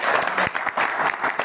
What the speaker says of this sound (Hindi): ताली बजाओ, अभी बहुत सारी बजाओ